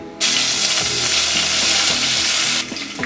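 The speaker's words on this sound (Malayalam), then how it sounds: "ഇനി നമുക്ക് കുറച്ച് കറിവേപ്പില ഇട്ട് കൊടുക്കാം" A loud burst of sizzling as curry leaves hit hot oil, a dense steady hiss with faint stirring, dropping off near the end.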